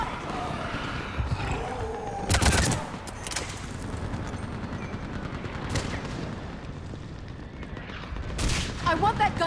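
Mounted-gun fire in the video game Mass Effect 3 crackles through a chaotic battle, with loud bursts near the start and end over a constant din of combat noise and shouting voices.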